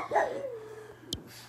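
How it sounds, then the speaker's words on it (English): A dog gives a single short bark that slides into a whining tone, close and fairly clear, followed by a brief sharp click in a quiet room. "What are you barking about, Mick?"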